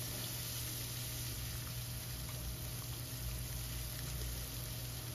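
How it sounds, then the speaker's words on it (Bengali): Chopped onion frying in oil with bay leaf, five-spice and dried chilli, a faint, continuous, even sizzle with no talk. "এখন পেঁয়াজটাকে একটু লাল করে ভেজে নেব।"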